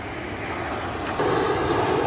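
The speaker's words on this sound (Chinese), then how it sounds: "可以看到飞机降落源源不断，这个地方机场就在这里" An airplane landing at an airport beside vineyards in Shaanxi gives a steady, moderately loud engine roar that swells slightly partway through, with no talk.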